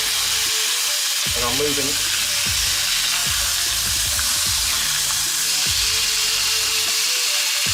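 Pork chops sizzle loudly in a hot pan, a dense continuous crackle and hiss with occasional scraping clatters as the meat is moved, while a voice speaks briefly underneath.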